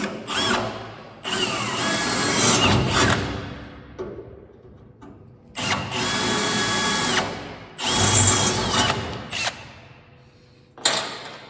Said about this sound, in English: Now I just gotta drill and tap them.